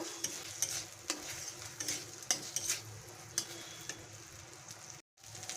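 Ginger and garlic paste cooking in a pan for a Bengali doi katla curry, a soft steady sizzle broken by repeated scraping stirs and clinks of a utensil against the pan, close by with no talking.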